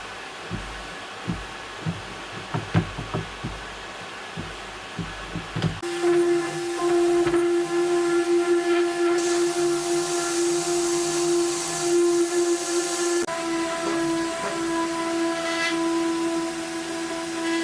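A sanding machine with 320 grit paper works across a car side skirt, starting as a series of soft taps and scuffs, then settling into a steady loud whirring drone with a high tonal whine that runs to the end.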